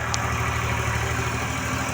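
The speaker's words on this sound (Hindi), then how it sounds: "अभी देखो मोटरसाइकिल आ रहा है यहाँ से देख सकी" A motorcycle engine hums steadily and fairly loudly beside muddy paddy fields being prepared for rice planting in a village, a continuous low drone with no talking.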